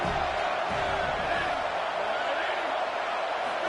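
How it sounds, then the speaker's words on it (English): A football stadium crowd rising up with a broad continuous roar of cheering and shouting, loud and sustained throughout. "This crowd rising up, sensing that its defense needs some help."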